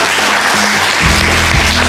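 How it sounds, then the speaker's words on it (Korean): A church congregation at a deacon ordination service claps together, a dense burst of applause that swells midway and continues under a sustained low tone, loud and close throughout. "이럴 땐 박수가 나와야"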